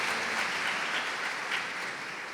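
A church congregation applauds together during a Spanish-language worship service, steady dense clapping that fills the room and fades slightly toward the end, with no voices on top.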